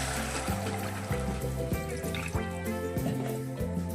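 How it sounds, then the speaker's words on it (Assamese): Water pours into a pot of cooking chana dal, a steady close trickle and splash with a few rhythmic knocks beneath it, no voices. "ইয়াতে দি দিম পানী"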